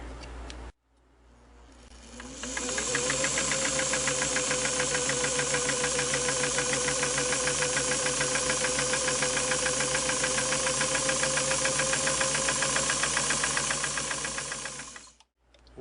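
A Singer Model 327K sewing machine runs steadily for over ten seconds, a fast, even mechanical whir with a rapid ticking of turning gears, starting up after a brief clunk and winding down at the end, close and alone.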